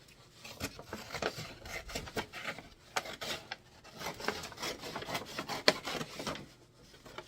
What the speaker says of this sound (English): cut the plastic bag or the paper bag to open it up.